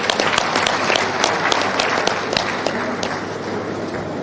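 Loud, dense applause from a large audience at an annual accountants' conference fills the whole stretch steadily, with no voices over it.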